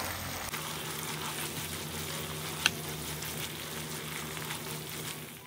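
Chicken frying in a pan with chili flakes and pepper powder, stirred over the heat: a steady, close sizzle runs throughout with one sharp scrape or clink near the middle.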